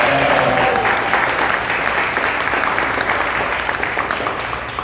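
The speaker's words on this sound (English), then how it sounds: "round of applause for Naughty Greek to host this day" An indoor audience applauds in a thick, steady wash of clapping that holds at a loud level and tapers slightly toward the end.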